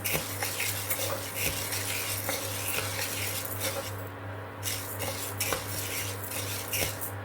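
Lentils dry-roasting for homemade sambar powder, stirred continuously in a pan with repeated close metallic scrapes and clinks of a spoon over a light rattle of grains.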